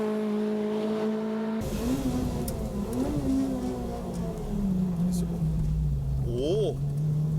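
A 2002 Honda 2-litre VTEC car pulls away and accelerates, its engine note climbing through the revs as it moves off, with the steady drone of the car continuing underneath.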